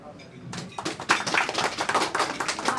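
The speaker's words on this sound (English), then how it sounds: "Let's give Lance Group a big applause." Audience applause at an Andrew Yang 2020 presidential campaign gathering breaks out after a brief pause and builds into a dense, steady patter of many hands clapping close by, lasting several seconds.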